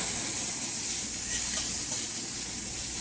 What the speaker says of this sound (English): we're gonna put in those green onions that I cut up. We're gonna add those to that, and we're gonna get it good and brown